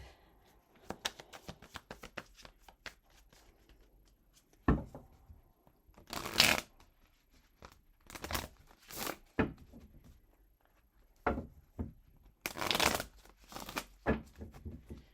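Oracle cards being shuffled by hand, a series of soft papery riffles and flutters in irregular bursts, some longer and louder, separated by quiet pauses, close and alone.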